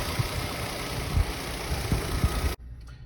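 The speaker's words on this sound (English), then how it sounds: "Main fan and the tall fan, both spinning." Radiator cooling fans on a 2012 Volvo XC60 T6, main and tall fan both running, give a steady loud whirring drone with engine-like hum that cuts off abruptly near the end, leaving near silence.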